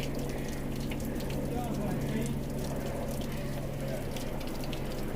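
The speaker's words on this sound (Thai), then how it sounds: "มันเป็นน้ำตกหยดนะทุกคน" Water dripping and trickling down a rock cliff face at a small waterfall on a mountain hike, a steady faint wash of splashing with no distinct individual drops.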